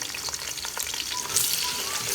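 Onion drops into hot ghee with mustard and fenugreek seeds and sizzles loudly and without a break, with stirring scrapes and a brighter burst of hiss partway through, close up and alone.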